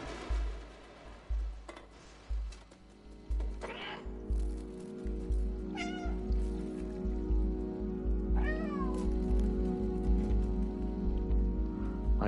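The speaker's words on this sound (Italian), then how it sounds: "non sembra un miagolio vero" A cat meows repeatedly in the video game Stray, several rising, whiny calls spaced apart over a steady low rumble and ambient game noise, with no talking.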